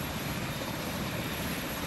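A helicopter's steady, loud engine roar fills the whole stretch, a dense, unbroken rumble with no pauses.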